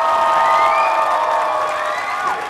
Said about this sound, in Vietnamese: Một tràng pháo tay cộng thêm 20 điểm từ các vũ công của chúng ta.